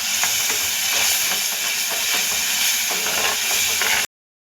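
Masala spices fry in oil in a pan for Savji chicken, a loud, steady close hiss and crackle that runs unbroken for about four seconds before stopping abruptly.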